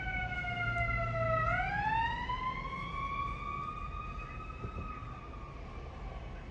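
An emergency vehicle siren wails continuously, its pitch dipping then sweeping up and holding steady, moderately faint and somewhat distant with no talk over it.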